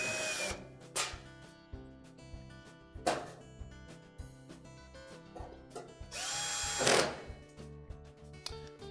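A power drill drives screws to secure a part on a Frigidaire range during an oven temperature probe replacement. Several short whirring bursts come close up, then one longer burst, with quiet gaps and no talking.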